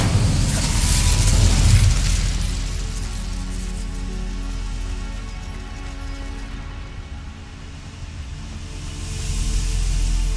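Incendio fire spell cast in Hogwarts Legacy inside a coastal mine, a loud whooshing burst of flame near the start that roars, then fades into a sustained rumbling crackle.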